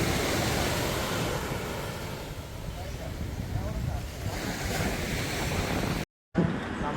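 Ocean waves at Pink Beach in the morning, a steady broadband wash of surf with some wind buffeting the microphone, continuous and fairly near, briefly cutting out near the end.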